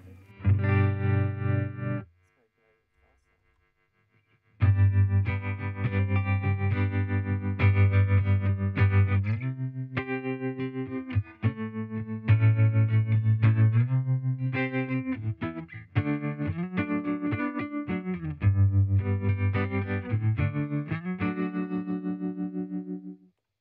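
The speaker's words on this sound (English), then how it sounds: "get that tremolo a little bit deeper." An electric guitar plays chords and lines through a Fender Champion 50XL amp with a heavy, pulsing tremolo and some drive; it breaks off briefly near the start, then continues unbroken.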